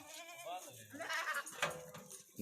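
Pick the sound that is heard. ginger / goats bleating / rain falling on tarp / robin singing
goats bleating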